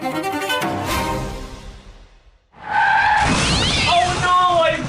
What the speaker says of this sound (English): Oh no, I've been in a car accident.